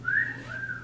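A person imitates a loud whistle, one sharp rising note that holds briefly and then trails off into a softer sustained tone.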